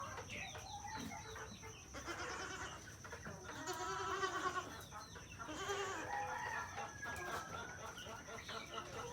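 Goats on a farm bleating at intervals amid clucking chickens and other farmyard noise, moderately quiet and somewhat distant, with a faint voice in the background.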